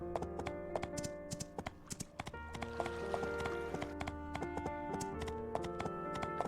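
Hoofbeats from a horse in the video game My Time at Portia clip-clop steadily over layered game music, a regular light tapping rhythm running throughout.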